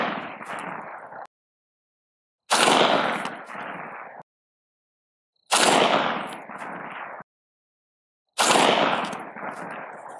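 Rifle gunshots from a 16-inch mid-length upper firing Remington ammunition, unsuppressed, outdoors: three loud, sharp reports spaced about three seconds apart, each cracking hard and then trailing into a short echo before silence.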